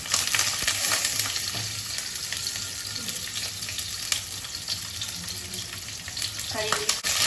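Lemongrass for green chili chicken sambal frying in hot oil, a steady close sizzle that runs throughout, with faint stirring clinks and a brief splashy clatter near the end.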